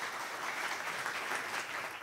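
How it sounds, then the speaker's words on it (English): A warm, sustained burst of audience applause greets the former Romanian president Emil Constantinescu at an academy event. The dense clapping stays steady and fairly loud throughout. "join me in a very warm and a heartfelt applause for the president of the ICD Academy, President Emil Constantinescu"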